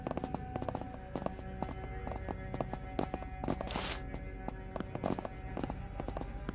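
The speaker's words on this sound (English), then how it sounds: "I heard a whole bunch of footsteps." Footsteps in the SurrounDead video game, a rapid clip-clop run of many hurried steps repeating steadily throughout, loud and near over a constant droning game ambience.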